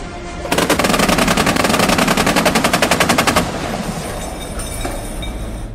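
A K30W Chunho wheeled anti-aircraft gun fires a long, rapid burst of evenly spaced, loud close shots during sea firing trials, followed by a lower lingering rumble after the burst stops.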